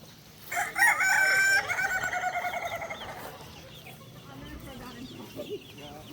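A rooster crows loudly and close by in one long call among Buff Orpington chickens, trailing off into softer clucks and farmyard noise with faint talk.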